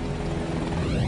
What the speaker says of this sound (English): the Army needed a new attack helicopter